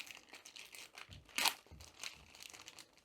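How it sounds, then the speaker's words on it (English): A glue strip peeled from a resealable plastic bag holding a diamond art canvas gives a short burst of crinkling and tearing, close and fairly quiet, with one sharper rip near the middle. "So if we flip it over, there is a glue strip near the top. So if we just peel that,"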